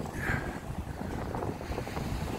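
Sea waves and gusting wind on the Blackpool promenade on a rainy day, a steady close roar of surf and buffeting wind noise on the microphone.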